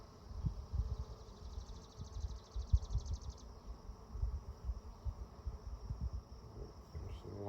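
Honey bees buzz around an open beehive during an inspection, a soft continuous hum with low rustling and handling noises close by, and no clear talk.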